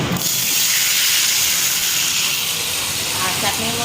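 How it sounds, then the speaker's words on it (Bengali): A pressure cooker on the stove hissing steam continuously, a loud steady broadband rush that fills the whole moment with no clear whistle. "প্রেশারে দিয়ে সিটি উঠতে বসিয়ে দিয়েছি, 4টে মতো সিটি দেবো"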